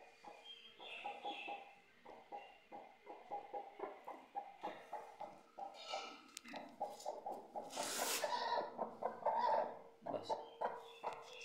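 Repeated short clucks from a broody Aseel hen, close by, in a steady rhythm, with other bird calls and a voice mixed in.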